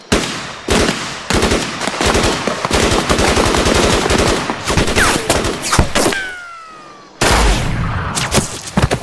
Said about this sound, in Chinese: 还真敢开枪！